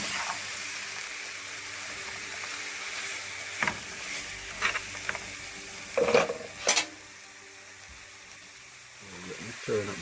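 Curry beef frying in a pan as it is stirred, a soft continuous sizzle broken by several sharp scrapes and clatters of the spoon against the pan, with a person talking at times.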